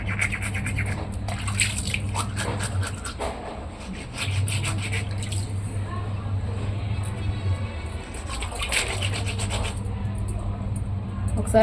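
Fish being scrubbed clean by hand gives a steady, close rasping and rubbing that goes on throughout, with brief pauses between strokes.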